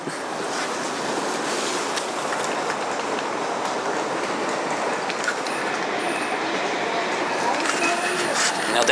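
Large railway station with trains, a steady loud rumble and hiss of rolling stock with faint wheel squeal and clatter throughout, continuous and close.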